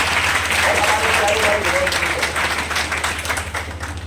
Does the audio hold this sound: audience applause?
yes